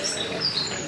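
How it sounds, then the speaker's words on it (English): Bird song chirps through an IKEA store, a steady run of high, thin tweets with soft background hum, moderately loud and continuous. "That bird is copying."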